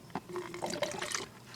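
Water from a Penn Plax Cascade 700 aquarium canister filter being poured into a bucket, a short close burst of splashing and gurgling trickles with faint hollow ringing, heard alone.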